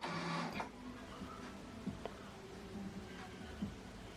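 An Epson Expression XP 8700 printer initializing after ink cartridges are installed gives off a low mechanical hum and whir with soft clicks and brief thumps from its moving parts, heard close up and without talk.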